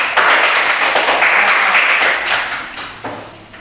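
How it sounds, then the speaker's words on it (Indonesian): Students in a classroom clap for a classmate, a short burst of close, bright handclaps that starts strong and then thins out and fades toward the end. "Tepuk tangan dulu untuk temannya."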